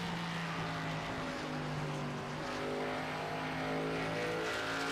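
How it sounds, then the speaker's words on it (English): A Toyota Supra NASCAR stock car in a racing sim at Phoenix Raceway, heard from inside the car as a loud, continuous engine drone with steady harmonic tones that rise and fall slightly. No talking. "I just love hearing, especially the Toyota Supra inside the car"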